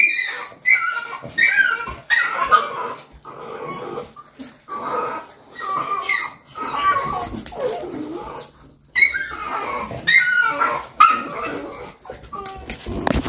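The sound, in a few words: American Bully dogs barking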